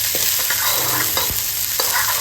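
Green chilies frying in a pan for poha, a steady close sizzle with a few soft scraping stirs and light clinks over the hiss.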